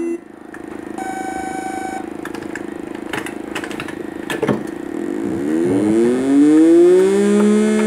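A wooden arcade Formula 1 racing game engine roars steadily, then climbs in pitch through repeated revving sweeps, loud and close, with a few clattering knocks in the middle.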